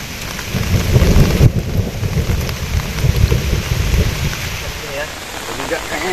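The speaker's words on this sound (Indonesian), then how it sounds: "Ada suara hujan." Heavy rain pours down on a camping shelter during a downpour, a dense, loud, continuous hiss with low rumbling gusts, while a faint voice is heard near the end.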